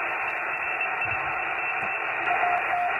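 CW Morse code contact received on a Yaesu FT-817 radio: faint tone beeps sit under a heavy, steady band of hiss and static that fills the whole stretch.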